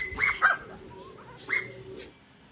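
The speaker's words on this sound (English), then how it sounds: "D for dog." A cartoon dog barks in a children's alphabet rhyme, giving two quick close yips, a pause, then another sharp bark and a soft trailing whimper, with no talk over it.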